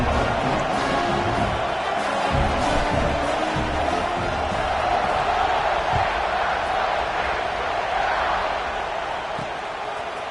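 A packed stadium crowd roars steadily at a college football kickoff, a broad sustained wall of cheering and shouting that carries on without letup and eases slightly toward the end.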